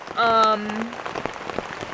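Rain hits a wet surface during a backpacking trip in Red River Gorge, Kentucky, with a brief tonal slap up front followed by steady, close, dense patter throughout.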